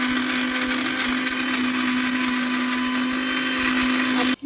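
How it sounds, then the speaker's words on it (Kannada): Mixer grinder grinding a cooled, roasted spice mixture into fine powder for temple-style puliyogare gojju, a loud steady whine running unbroken until the motor cuts off abruptly at the end. "ಎಲ್ಲ ಮಿಕ್ಸಿಗೆ ಹಾಕ್ಕೊಂಡು ಫೈನ್ ಪೌಡ್ರ್ ಮಾಡ್ಕೊಂಡ್ಬಂದು ತೋರಿಸ್ತೀನಿ"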